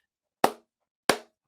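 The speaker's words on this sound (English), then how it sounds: "That is a slow clap if I've ever heard one" Two slow, isolated hand claps with cupped palms, spaced about half a second apart, sharp and fairly close against silence.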